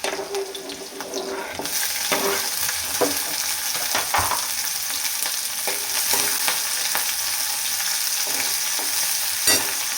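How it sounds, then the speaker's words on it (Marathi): Potatoes and moong dal sautéed in oil in a pan for a dry potato dish, with a steady loud sizzle and repeated scraping stirs close up, no talking. "तेलामध्ये छान परतून घ्यायची."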